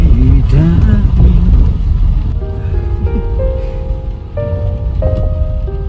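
Rain falls on a gloomy rainy day with a broad, constant wash of drops, while a melodic voice or music rises over it.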